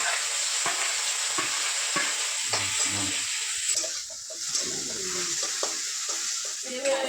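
Masala spices frying in hot ghee for Kerala-style patri, a steady loud sizzle running the whole way with occasional stirring scrapes and clinks, close and continuous with no talking.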